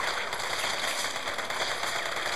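Rapid automatic gunfire from a shooting video game played through Thrustmaster Y-300 headphones at full volume, a dense continuous rattle with no pauses.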